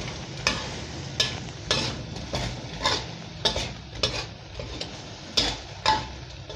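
Pork belly stir-fried in a pan with fresh chili and kaffir lime leaves, a soft continuous sizzle broken by repeated scraping stirs of the spatula against the pan at a steady, irregular rhythm.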